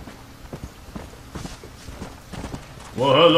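Horse hooves clip-clop at a steady walking pace in Red Dead Redemption, a string of moderate, evenly spaced thuds, ending in a sudden louder harmonic burst.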